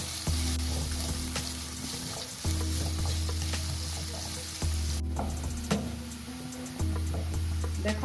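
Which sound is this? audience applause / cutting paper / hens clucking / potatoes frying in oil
potatoes frying in oil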